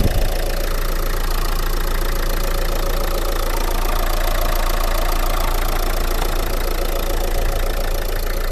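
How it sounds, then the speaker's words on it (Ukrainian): A 2014 Renault Megane engine idles loudly and steadily up close, its rapid, even mechanical rumble continuing without a break. "Двигун працює ідеально."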